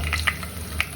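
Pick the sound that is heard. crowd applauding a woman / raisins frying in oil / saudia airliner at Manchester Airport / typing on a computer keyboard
raisins frying in oil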